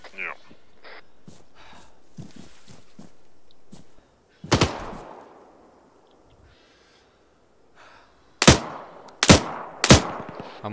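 Gunfire in the Arma military game: a few sharp, loud single shots ring out with echoing tails, separated by quieter stretches, alongside radio chatter and nearby voices.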